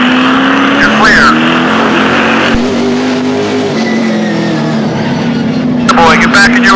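Pro stock race cars roar side by side around the Scotia Speedworld oval on the Maritime Pro Stock Tour, a loud steady engine drone with tire squeals, heard under a spotter talking on the radio.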